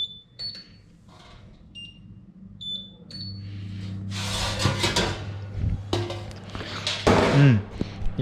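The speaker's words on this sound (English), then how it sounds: "If you're wondering about all of this beep boop beep, it's just like me pressing random stuff." Oven control panel beeping as buttons are pressed while preparing roasted lamb at home, a few short high electronic beeps early on, followed by louder kitchen clatter and rustling.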